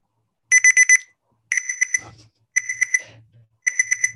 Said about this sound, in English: our highly annoying buzzer